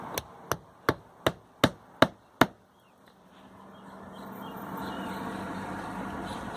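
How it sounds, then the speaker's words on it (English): Seven sharp, evenly spaced hammer blows drive nails into an asphalt roof shingle, each strike crisp and close, followed by a steadily rising outdoor hiss of background noise. "nailing that shingle in, also hitting the top of this shingle"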